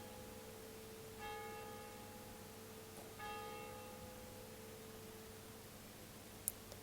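Two faint church bell strikes ring out a couple of seconds apart during a calm breathing meditation, their tones decaying slowly into a low, quiet room hum.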